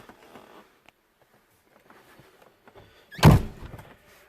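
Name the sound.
Ferrari 360 car door shutting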